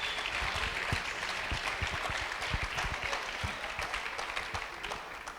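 A church congregation applauding during a bilingual Spanish-Portuguese service, with steady, dense clapping from many hands filling the room, fairly distant, and faint voices mixed in.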